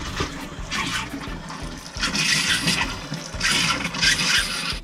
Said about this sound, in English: make sure all the water's drained out of your faucet